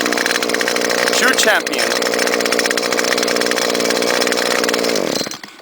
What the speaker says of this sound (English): So it's the very first trimmer that I ever bought that I started using commercially